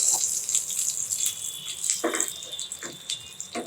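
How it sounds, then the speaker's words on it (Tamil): Mustard seeds and urad dal hitting hot oil while making peanut chutney, a hissing, crackling sizzle with brief louder bursts of spatter, close and alone without talk. "இந்த எண்ணெயிலே கொஞ்சம் கடுகு உளுந்த பருப்பு போட்டுடலாம்."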